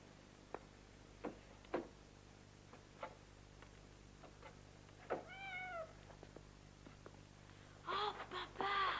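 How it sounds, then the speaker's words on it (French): A cat meows in a French TV film on worn VHS: a few faint, widely spaced sounds, then two clear meows midway and a louder cluster near the end, with no talking. "James, on ne peut pas se permettre de nourrir un chat en ce moment"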